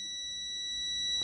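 A multimeter in continuity buzz mode gives a single steady high-pitched electronic tone that holds for just over a second before cutting off, clear and close.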